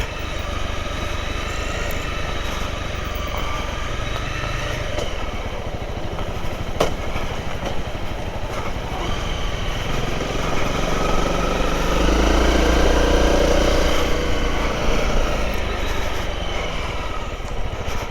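A Honda CRF 250L motorcycle engine runs steadily while braking downhill, a close, loud low rumble holding a constant throb with slight swells, heard alone without talk.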